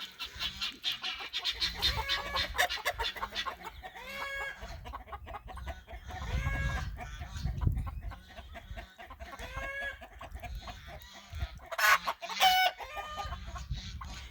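Many turkeys gobble, cluck and chirp together in a busy flock, with overlapping calls and a low rumble of background noise throughout.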